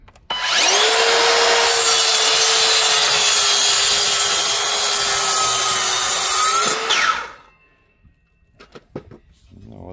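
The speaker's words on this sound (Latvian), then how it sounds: "Zāģēšu 90 grādos. Ja ir asa ripiņa, tad tas ir vieglāk." A sharp circular saw blade cuts a wooden board at 90 degrees, a loud, sustained whining rasp lasting about six seconds that cuts off abruptly, followed by faint knocks and handling sounds.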